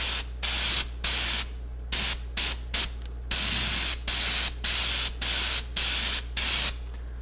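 An aerosol can hisses in a steady series of about a dozen short, loud, close bursts separated by brief pauses as coating is sprayed over a fender patch on a 1994 Ford F150.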